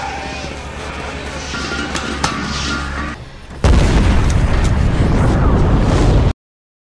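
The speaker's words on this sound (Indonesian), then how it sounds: "lalu menembaknya hingga meledak" A gas cylinder shot and exploding during a zombie film scene: a loud, sudden blast that breaks in midway and carries on as a dense, roaring rumble, after a lower stretch of background action sound.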